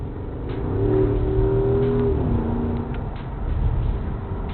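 A Porsche Cayenne Coupe in sport mode accelerates hard, its engine note climbing and sustaining through a strong rev before easing off, close and loud with no talking.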